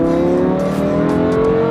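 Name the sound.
Lamborghini Huracan engine revving as car pulls away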